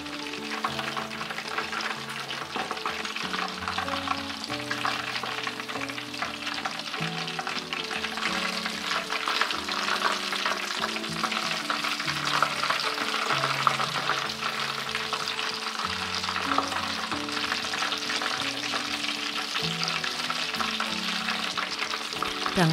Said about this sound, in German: 5 Minuten frittieren.